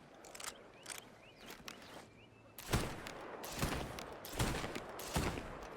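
Pistol shots in Assassin's Creed Black Flag, a handful of sharp, fairly close cracks spaced about a second apart over low game ambience, with lighter clicks and steps earlier.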